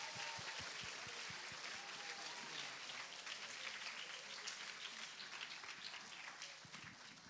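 Audience clapping fills a conference hall at the official opening of a Model UN conference, a dense, steady wash of applause that continues throughout without pause.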